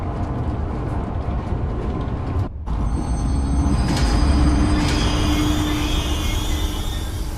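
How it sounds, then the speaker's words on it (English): A train in the video game Zoochosis starting up and rolling along, a steady rumbling ride with a brief dropout, then clanks and a high metallic squeal as it runs on. "select the giraffe enclosure on the control panel and start the train"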